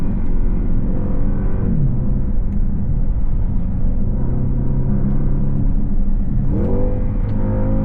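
A sedan accelerates hard from inside the cabin, its engine drone climbing and dropping as quick gear shifts cut in, a loud, continuous roar with no talk.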